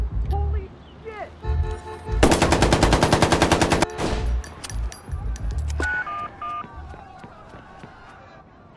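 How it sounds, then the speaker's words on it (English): Rapid automatic gunfire rattles out in the video game Watch Dogs, one sustained burst of closely spaced, loud shots lasting under two seconds, followed by in-game voices talking. "there's gunfire. We need police."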